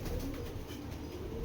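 Foreign racing pigeon cooing softly from up close against a steady background hiss, with low, muffled coo tones running through the whole short stretch and no speech.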